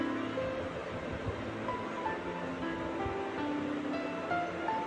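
Boondi for a sweet sizzles in hot oil, a soft, continuous bubbling crackle at low volume with scattered faint pops.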